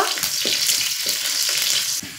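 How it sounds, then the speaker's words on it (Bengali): Sliced onions, bay leaf, whole cumin and two dried red chillies frying in oil in a wok, a dense close hiss with a few soft stirring scrapes, alone without talk. "কড়াতে তেল দিয়ে দেব তেজপাতা, গোটা জিরে, পেঁয়াজ কুচি, দুটো শুকনো লঙ্কা দিয়ে একটু লাল করে ভেজে নেব"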